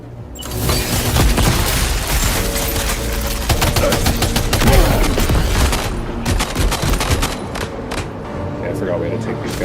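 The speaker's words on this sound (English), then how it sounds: "Machine gun." Rapid machine gun bursts in a shooter video game, loud and dense, rattling continuously for several seconds with heavy booms mixed in, while a player talks over the fire.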